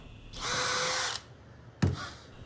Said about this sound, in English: then I'm just drilling through a 1/4 inch hole